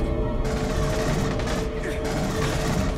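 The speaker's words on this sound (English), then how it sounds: "so I hear a gunfire," Rapid bursts of gunfire in the video game Aliens: Colonial Marines crackle continuously over a dense roaring background, loud and sustained for a few seconds.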